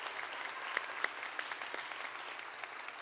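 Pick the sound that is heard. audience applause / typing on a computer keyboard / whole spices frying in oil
audience applause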